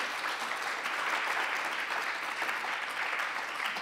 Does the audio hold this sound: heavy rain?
no